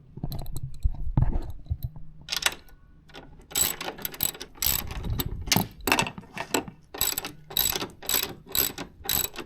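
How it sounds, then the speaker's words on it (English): A ratchet loosens the 14mm strut nuts on a 2023 VB WRX during a coilover install, with repeated close, crisp ratcheting bursts and clicks in an irregular rhythm, plus a low thud near the start. "I'm going to loosen the 14mm nuts that hold the strut to the housing up top."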